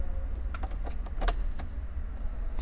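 A car key jingles and clicks as it goes into the ignition slot of a BMW E60 520d, several small metallic taps and rattles close by, quiet, with no talking.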